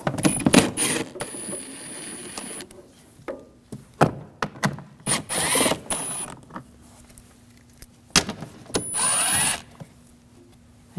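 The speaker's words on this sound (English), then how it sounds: "There's screws in the back here and in the front. We're going to use an 8mm socket." Cowl cover screws coming out of a 2007-2013 BMW 328i with an 8mm socket: scattered short clicks, ratchet ticks and metallic taps in uneven bursts, close and fairly quiet, with gaps of near silence between them.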